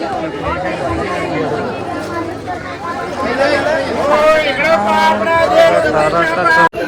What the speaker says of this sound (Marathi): आणि फुल गर्दी